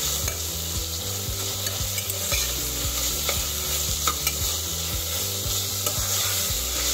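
Ginger garlic paste fries in a pan for coconut milk rice, with a loud steady sizzle and a regular rhythm of spoon strokes scraping and tapping the pan, and no voices.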